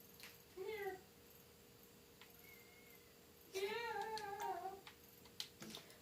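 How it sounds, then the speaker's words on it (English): A cat meows indoors: one short meow, then a longer wavering one a few seconds later. Both are fairly faint over a low steady hum, with no clear purring. "Is that her purring too?"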